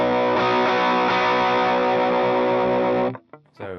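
Electric guitar through an overdrive pedal with extra gain, a sustained loud driven chord ringing for about three seconds, then a short choppy tail.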